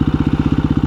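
A 2017 KTM 350 EXC-F dirt bike engine runs loud and close in a rapid, steady pulsing thrum, its firing beats evenly spaced across a brief moment.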